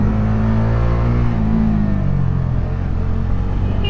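A Bajaj Dominar 400 UG BS6 2023 motorcycle with a quickshifter runs at full power, its engine giving a loud, continuous, close-up drone with wind rumble throughout.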